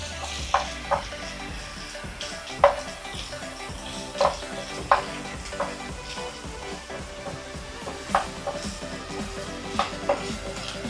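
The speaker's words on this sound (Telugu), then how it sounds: "ఇప్పుడు మనం ఒక స్పూన్ అల్లం వెల్లుల్లి పేస్ట్ చేస్తున్నాం. ఇది పచ్చివాసన పోయేంతవరకు ఫ్రై చేయాలి." Ginger garlic paste fries with onions in a pan for a drumstick curry, a steady sizzle close by, broken by regular clinks and scrapes of a stirring spoon.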